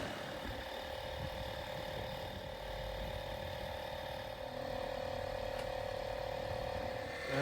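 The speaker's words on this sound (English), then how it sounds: "The trailer's got a winch and hopefully it'll go on." A trailer winch ratchets and whirs steadily as it drags a classic Range Rover up onto a trailer, a continuous mechanical clicking and grinding hum with no voices.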